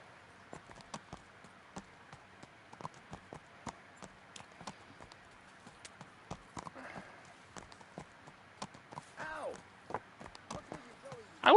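Horse hooves in the video game Kingdom Come: Deliverance clip-clop in a steady trotting rhythm, sharp and close, with a few louder scuffs and a brief creak near the end.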